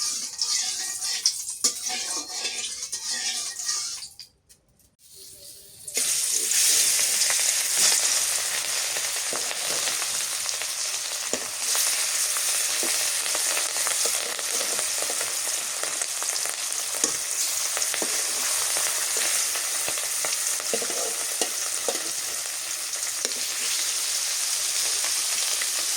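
Hilsa fish frying in hot oil, a loud, steady crackling sizzle that runs almost the whole time, with a short dip early on before it returns at full strength.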